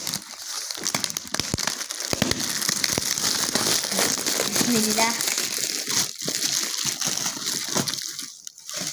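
A gift package being opened by hand, with close, busy crinkling and rustling of wrapping that runs almost without a break, while a voice talks over it.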